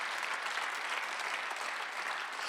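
Church congregation clapping steadily together during a Sunday worship service, a dense, even wash of applause that fills the room without pause.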